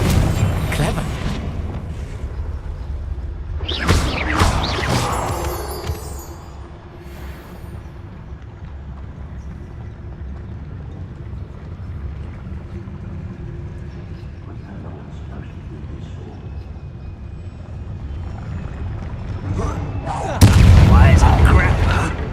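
Confringo fire spells blasting in the Hogwarts Legacy video game, heavy booming bursts around the opening seconds and again at the end, with a rumbling game backdrop between.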